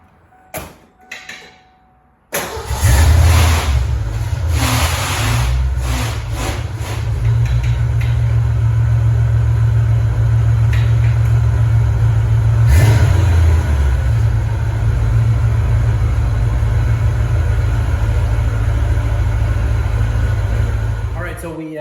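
A car door shuts, then a Fox-body Ford Mustang starts and drives off on a road test, a steady low rumble of engine and road noise continuing close by.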